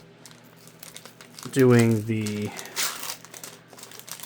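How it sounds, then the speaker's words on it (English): Plastic blind bag being carefully opened, soft crinkling and a sharper crackle rising through the middle, close up, with someone speaking over it. "because of having to open these bags like this"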